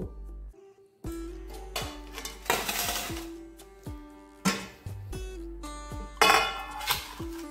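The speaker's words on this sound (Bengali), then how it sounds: "এবার শাকটাকে কুচিয়ে নিব।" Radish greens being chopped on a bonti blade, sharp cutting knocks and scrapes recurring in an uneven rhythm, close and fairly loud.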